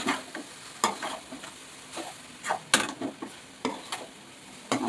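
Fried rice with fried rice masala tossed and stirred in a hot pan, close and clear, with a low sizzle under irregular clattering scrapes of the spatula against the pan.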